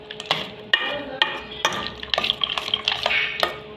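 Fried peanut chaat masala being stirred, with a spoon clattering and scraping in irregular close strokes over a faint steady background.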